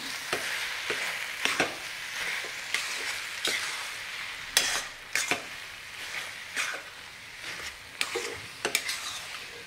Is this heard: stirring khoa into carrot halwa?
yes